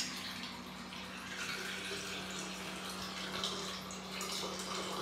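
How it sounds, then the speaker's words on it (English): Water draining from a shower or tub that had been clogged by a backing-up toilet, a steady rushing, gurgling flow heard close up and without voices. "Yep, it's draining."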